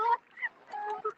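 Birds call at sunset in short honking, chirping bursts, a few separate calls close together against an otherwise quiet background.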